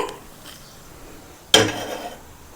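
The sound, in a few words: metal pan (bandi) placed on lit stove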